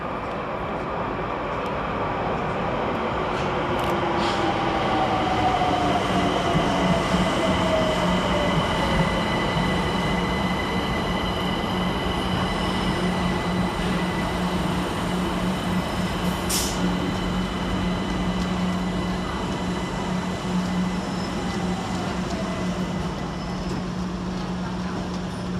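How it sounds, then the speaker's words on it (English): A London Overground electric train, unit 378257, pulls into Surrey Quays station with a loud, steady rumble, a sustained low motor tone and a rising squeal from the wheels, heard close and alone. "Next into the station is 378257, working the 1427 London Overground service from Highbury and Islington to West Croydon."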